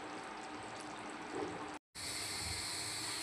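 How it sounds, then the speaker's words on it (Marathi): Chicken curry (desi kala masala chicken) simmering on low gas, a steady bubbling hiss that runs continuously at moderate closeness, broken by one brief silent gap, with no voices. "5-10 मिनिटं छान अशी उकळू देऊया."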